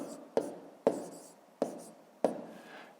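Pen on paper while working column multiplication of numbers, with four distinct sharp taps and short scratches spaced evenly and close by, with no talk.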